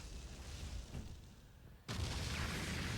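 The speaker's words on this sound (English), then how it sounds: "It explodes!" An explosion in a One Piece anime episode, with a quiet rumbling lead-in giving way to a sudden, sustained roaring blast that stays loud to the end.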